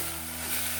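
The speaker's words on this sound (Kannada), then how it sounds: "ಒಂದು 2 ರಿಂದ 3 ನಿಮಿಷದವರೆಗೆ ಇದು ಎಣ್ಣೆಯಲ್ಲಿ ಹಾಗೇ ಫ್ರೈ ಆಗಬೇಕು" Raw banana pieces with turmeric and salt frying in hot oil in a pan, a steady close hiss of sizzling with no talking.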